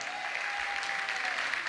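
Comedy-show audience applauding in a theatre, a steady dense wash of clapping that holds at an even level throughout, with no talk over it.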